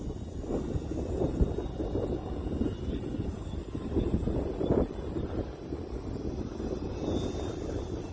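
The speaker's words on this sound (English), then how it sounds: "We got a little bit of wind going on" Wind blowing on a snowy day outdoors, a steady rushing roar buffeting the microphone, with a faint engine-like drone underneath and no talking.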